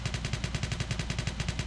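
Rapid automatic gunfire in the Poly Battle video game: a fast, evenly spaced stream of loud, close shots, roughly a dozen per second, running continuously without a break.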